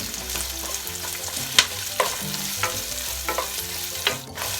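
Onions sautéing in a pan, a continuous sizzle broken by several sharp scraping and clinking stirs, with faint music underneath.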